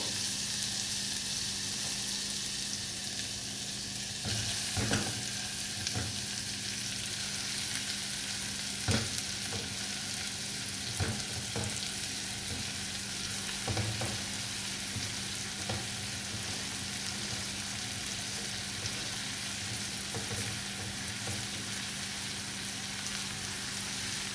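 Sliced leeks sauté in a pan with onion, a continuous quiet sizzle punctuated every few seconds by the scrape and knock of a spoon stirring.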